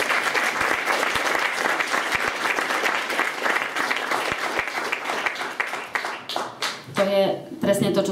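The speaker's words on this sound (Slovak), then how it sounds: "vy všetci ste teraz tlieskali organizácii" An audience at an awards evaluation event gives sustained, loud applause with dense clapping, which tapers near the end as a voice begins speaking over it.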